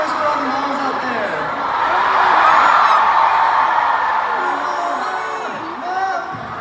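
A concert crowd at a show in LA whoops, cheers and screams loudly and continuously, swelling mid-way, with a voice over the din.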